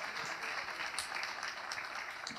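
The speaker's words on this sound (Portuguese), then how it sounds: "uma salva de palmas para Ana Castelo" An audience at a construction show launch presentation claps for a speaker, a moderate, fairly quiet round of applause with scattered individual claps standing out.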